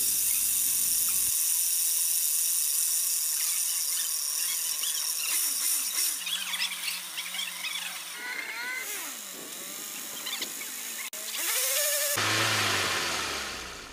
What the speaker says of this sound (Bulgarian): Двигателя започва да работи нормално и си тръгваме без проблеми.